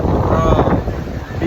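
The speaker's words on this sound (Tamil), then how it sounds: "கடல் அலைகள், கடல் காற்று செம்மையாக இருக்குது" Steady sea wind and waves on the beach at Kanyakumari, a continuous loud roar with heavy wind buffeting the microphone throughout.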